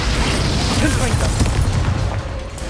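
A Confringo blasting spell explodes in a video game, a loud, dense roaring boom that fills the whole short moment with rumbling low-end and crackling debris.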